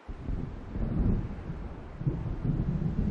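Low, rolling thunder rumbles from an approaching storm in Alan Wake Remastered, a distant, swelling roar mixed with wind that rises and falls over a few seconds without any voices.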